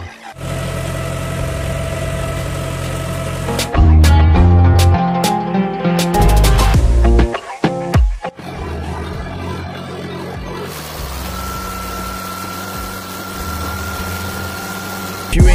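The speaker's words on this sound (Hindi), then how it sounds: "अभी जाना है दूसरे खेत पे ट्रैक्टर चलाने के लिए," A farm tractor's engine runs with a steady low idling drone, broken midway by a stretch of loud music with punchy beats before the engine hum returns.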